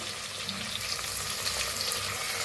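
Garlic, ginger and green chili paste hits hot oil with curry leaves in a pan while making masala rice, giving a steady, moderately quiet sizzle with faint stirring and no talking.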